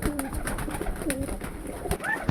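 Pigeons coo softly in short, low, rolling calls, with faint rustling and background noise around them.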